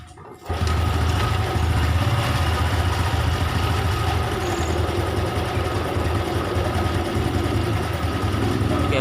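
A Honda Revo Absolute motorcycle fitted with a faulty regulator-rectifier and its battery disconnected starts up with a brief sound at the outset, then settles into a steady, close, continuous engine idle that holds for the rest of the clip.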